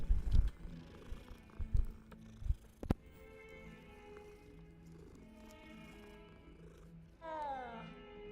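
A cat purring in the video game Hogwarts Legacy: a soft, rumbling purr near the start, followed by quieter game tones, with a voice briefly talking.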